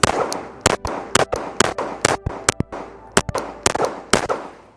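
About a dozen sharp, loud Glock 17 pistol shots crack in quick, uneven succession at an outdoor shooting range, each snapping close with a brief ring-out and no talking between them.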